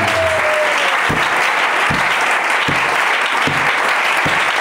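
A church congregation applauds steadily and loudly, a dense wash of clapping filling the whole stretch, with no speech over it.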